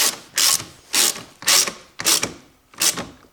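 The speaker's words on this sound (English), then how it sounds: "I take my 10mm socket and I fasten this bolt" A hand ratchet with a 10mm socket tightens a battery bolt on a 2018–2024 Toyota Corolla: six short, crisp rasping bursts at a steady rhythm, close and on their own.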